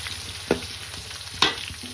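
Onions frying in a pan with a steady soft sizzle, broken by two brief louder clatters of stirring, heard up close with no voices.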